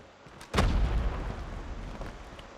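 A single heavy gunshot booms in Call of Duty Mobile, a sudden loud blast whose low rumbling tail fades over about two seconds.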